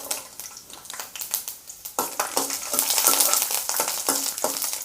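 About ten cloves of garlic and four dried red chillies frying in hot oil, a loud close crackling sizzle that swells midway, with a few stirring scrapes underneath and no talking.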